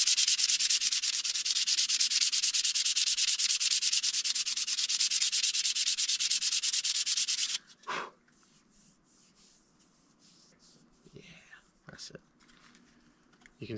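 Two sharpening stones rub together in a steady, dense scraping for about seven seconds, then stop, followed by quiet handling noises and faint soft sounds.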